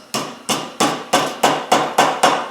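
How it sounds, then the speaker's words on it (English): Hammer blows driving horseshoe nails while shaping a heart, eight sharp metallic strikes in a steady, even rhythm, close and loud with no talking. "Now we're going to take it and we're just going to hammer that down."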